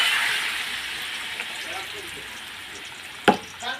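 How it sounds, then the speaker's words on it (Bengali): Water poured into a hot pan of curry: a loud hiss of sizzling that bursts at the start and slowly fades, then a sharp clank of a utensil near the end. "এই যে জল দিয়ে দিলাম"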